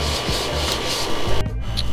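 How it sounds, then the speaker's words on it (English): Continuous abrasive rubbing of sandpaper on painted wooden dresser legs, loud and close, with a brief pause before the scraping resumes. "we are pretty much done sanding and peeling the legs"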